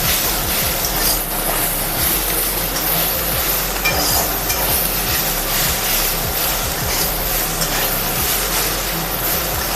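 Radish greens stir-fry with garlic and dried chilies in a pan, a steady dense sizzle overlaid with rapid, regular scraping and tossing strokes of a spatula throughout.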